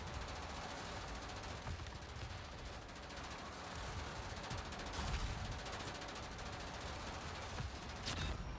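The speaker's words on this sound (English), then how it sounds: "Someone's definitely shooting me in the back." Tank gunfire in World of Tanks, HEAT game mode, comes as a steady stream of rapid, overlapping shots and bursts, moderately loud, with a sharper blast near the end.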